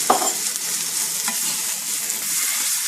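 Garlic and leeks sauté in a hot pan, a dense continuous sizzle with a couple of soft stirring knocks near the start, close by and with no voices.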